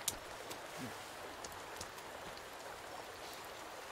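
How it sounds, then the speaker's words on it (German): Steady rain in the video game Sons of the Forest, hissing with scattered drops pattering on surfaces, faint and even throughout with no voices. "Ist natürlich super, dass es jetzt halt regnet."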